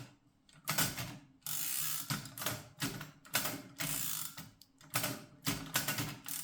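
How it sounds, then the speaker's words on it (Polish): An Imperial D typewriter's carriage and tabulator mechanism, a series of sharp mechanical clacks and ratcheting slides repeating in uneven bursts, close and fairly quiet, with no voices. "poprzez ich ustawienie możemy zdefiniować, w którym miejscu zatrzyma się wózek"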